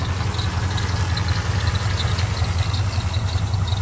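A 1984 Chevrolet K20 with a rebuilt engine, Holley-style carburetor, aluminum intake, electric fuel pump and dual exhaust idles with a low, steady rumbling lope, close and even, with a faint whine above it.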